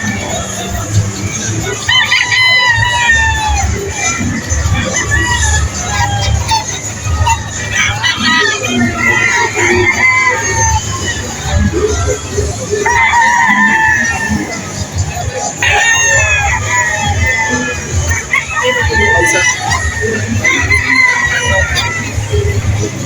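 Boston Black gamefowl roosters crow repeatedly amid a busy show crowd at IGF 2026, several drawn-out calls rising over steady hubbub and chatter, some near and some farther off.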